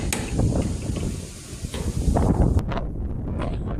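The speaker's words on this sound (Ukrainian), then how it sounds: "Правда, вітер у нас." Steady wind rushing and buffeting a microphone outdoors while a sheet-metal roof is being built, with low rumbling gusts throughout and no talking.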